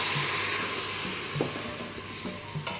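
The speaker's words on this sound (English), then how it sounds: "Once that's sizzling away, grab your tamarind water" Steady loud sizzling as tamarind water hits a hot pan, a continuous hiss with occasional small pops and stirring clinks.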